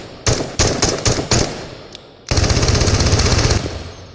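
Full-auto 5.56x45 rifle fire in the Into the Radius VR game: several short rapid bursts, then a longer sustained loud burst of automatic shots, close and dominant with no talking.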